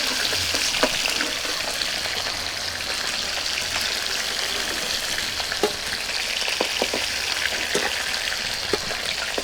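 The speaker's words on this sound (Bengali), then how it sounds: "তো মাছটা আমার হালকা করে ভেজে নিয়েছি" Hilsa fish frying in hot oil in a home kitchen, a dense continuous sizzle with scattered crackles and pops close by, steady throughout with no speech.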